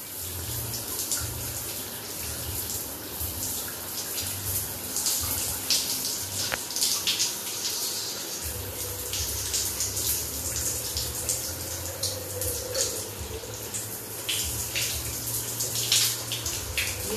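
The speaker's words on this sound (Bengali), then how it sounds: "গিজারের কলটা খুলে গেছে।" Water gushing from an opened geyser tap in a home bathroom, a steady, close, full-bodied rush with splashing that continues without pause throughout.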